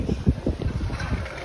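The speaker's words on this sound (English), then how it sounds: "You might hear some wind noise" Wind noise rumbles across a microphone on a breezy Ionian island waterfront lined with restaurants, low irregular thumps and gusts, close and fairly loud.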